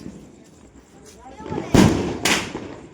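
Diwali firecrackers burst nearby, two sharp loud bangs a half second apart, with excited voices talking and shouting around them.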